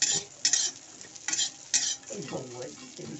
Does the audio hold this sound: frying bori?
yes